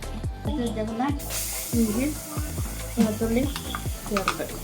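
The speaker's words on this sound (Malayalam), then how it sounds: "നമുക്ക് നല്ലപോലെ മസാല ഒന്ന് ഇളക്കി കൊടുക്കാം" Masala sizzling and being stirred in a hot pan, a steady frying hiss with scraping stir strokes, close by, while a person talks over it throughout.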